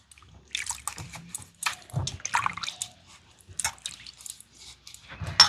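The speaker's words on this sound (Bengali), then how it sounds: "এবার এই জল দিয়ে আমের গাগুলোকে খুব ভালো করে এইভাবে ঘষে ঘষে" Raw mangoes rubbed clean in a basin of water, producing close, intermittent splashes, drips and sloshing at a moderate level.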